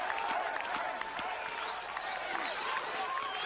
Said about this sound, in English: And this clapping won't do him any harm at all